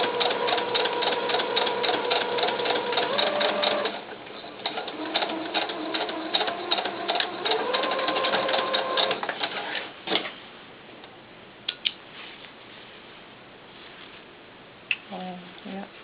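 A sewing machine stitching fabric for doll pants, fast rhythmic needle chatter for several seconds, a pause, then another run, followed by scattered clicks and handling; a person talks over and between the stitching.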